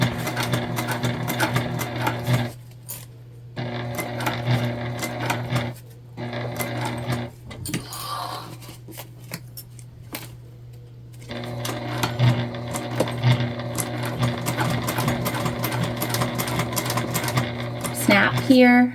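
A sewing machine stitches a bag through thick, bulky layers, running in fast rhythmic bursts separated by short pauses, with the motor's steady hum and the needle's rapid clatter close by.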